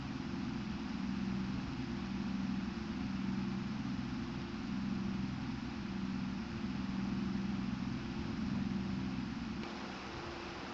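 Small tractor in Farming Simulator 25 dragging a loaded trailer of about 21 tonnes slowly uphill, its engine holding a continuous low, strained drone that barely varies, with no voices over it.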